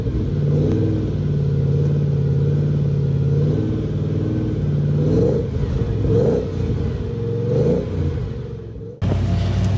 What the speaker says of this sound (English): And for me, it's all about that V8 rumble.